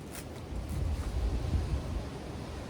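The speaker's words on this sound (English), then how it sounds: "Wind's starting to pick up here in Ohio today" Outdoor wind in Ohio: low rumbling gusts buffeting the microphone that swell in the middle and ease off, fairly quiet, with no other sounds.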